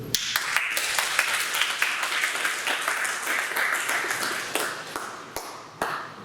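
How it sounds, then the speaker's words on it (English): Audience at a public forum on school diversity and high school admissions on Staten Island applauding a senator, a moderate round of clapping with several sharp, distinct claps popping out above the steady patter. "please, a round of applause for Senator Liu"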